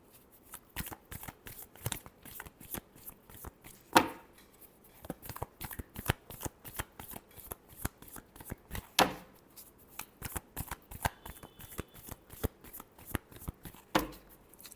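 Tarot cards are shuffled by hand in a long, steady run of crisp riffling flicks, each short burst close and fairly quiet, with a couple of sharper taps as the deck is squared.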